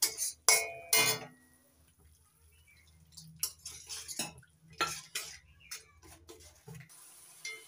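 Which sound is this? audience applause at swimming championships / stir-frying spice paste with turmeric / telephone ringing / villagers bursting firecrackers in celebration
stir-frying spice paste with turmeric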